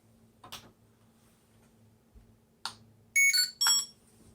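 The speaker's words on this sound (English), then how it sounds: "After successfully switching off, it will emit a power off sound after letting go of the power button." A Yuneec Breeze 4K quadcopter drone powers off, giving a few faint clicks followed by a short series of bright electronic beeps. The sound is close and quiet, with no talk.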